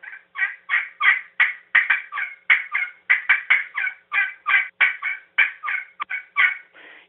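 Someone imitates wild turkey clucks and yelps with a game call, delivering a long run of sharp, evenly spaced, close and loud yelping notes with no talk.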